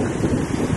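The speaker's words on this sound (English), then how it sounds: "I gotta remember about these waves that are still behind me" Ocean waves break on a Costa Rica beach, heard as a brief, loud, steady wash of surf roar mixed with wind buffeting the microphone, with no speech.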